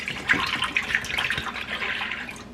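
Milk pouring into an Instant Pot for homemade yogurt, a steady liquid stream splashing for a couple of seconds, close and fairly loud, with no talking.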